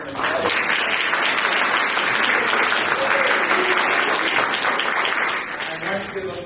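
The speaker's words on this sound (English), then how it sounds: "A round of applause for them." An audience at an eighth grade school production claps steadily in a dense, sustained burst of applause that tapers slightly near the end.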